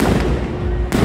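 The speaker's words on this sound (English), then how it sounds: "Y'all can miss out while we enjoy our fireworks." Fireworks going off in a celebration, a loud close crackling burst with sharp pops that rises again at the end, with voices faintly underneath.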